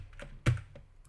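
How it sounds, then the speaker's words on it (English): A single key press on a computer keyboard, one sharp close click about midway through, with faint soft keyboard handling around it and no talking. "hold Control on the keyboard"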